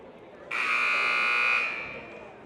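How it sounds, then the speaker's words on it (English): A loud electronic buzzer blares at a JV girls basketball game against Grayling, one sustained harsh tone lasting about a second over the low murmur of the gym, then fading into the crowd noise. "Loud buzzer there. Yeah, a very loud buzzer."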